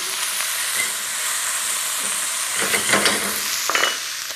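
Beef stroganoff sizzles steadily in a frying pan while a utensil stirs through it, with a few louder scraping and stirring bursts toward the end, close up and with no voices.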